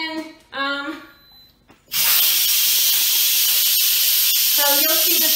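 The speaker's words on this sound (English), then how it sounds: "so you'll see the steam releasing, and that's just to release, to let the steam out" An Instant Pot vents steam in a loud, continuous hiss that bursts on abruptly and holds steady, with a person talking just before and over the end of it.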